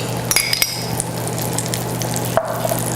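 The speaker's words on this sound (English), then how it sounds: "We're going to add all the veggies and that lightly beaten egg to the skillet." Vegetables and lightly beaten egg frying in a skillet give a soft continuous sizzle, with a few light clinks of a utensil against the pan near the start and a brief scrape later.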